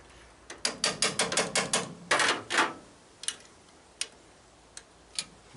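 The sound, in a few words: 1929 Whippet car engine running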